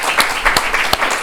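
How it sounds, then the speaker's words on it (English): An audience at an innovation challenge final event applauds the mentors, giving a short burst of clapping with a few distinct louder claps. "So can we just give them a round of applause?"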